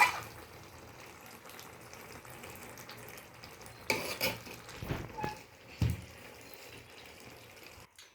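Finished chilli chicken scraped and poured from a pan: scattered metallic clinks and scrapes of a spoon against cookware, with a few louder clatters in the second half over a quiet background.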